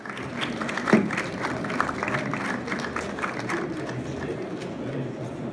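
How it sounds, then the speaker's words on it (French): A crowd at a photography fair in Paris claps steadily throughout, a dense wash of applause for a photographer with a few louder bursts near the start, and some faint voices mixed in. "on va applaudir très fortement Laure Villain."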